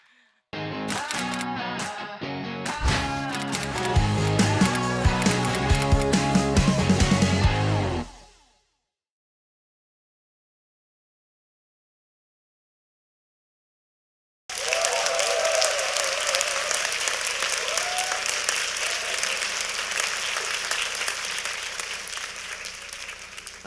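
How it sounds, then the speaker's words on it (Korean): A lecture-hall audience at a Korean talk event gives loud, sustained applause for about eight seconds, then falls silent, and then a second long wave of clapping and crowd noise follows. "여러분 큰 박수 부탁드리겠습니다."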